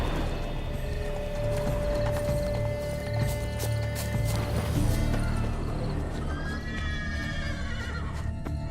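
A unicorn in The Witcher 3 game clops its hooves steadily and gives a whinny, both close and clear over a continuous ambient game background, with no talk.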